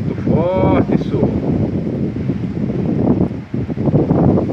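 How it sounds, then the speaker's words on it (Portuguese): Strong wind roars and buffets the microphone continuously in the rural sertão of Princesa Isabel, Paraíba, Brazil, with a brief harmonic squeak near the start and gusts rising and falling throughout. "Vento forte no sertão."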